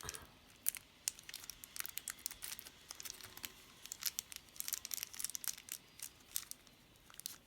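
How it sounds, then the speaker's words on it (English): Plastic wrapping is peeled off a 1/12 scale figure in quick, faint crinkles and small tearing rustles, close up and irregular. "So let's take off the plastic there."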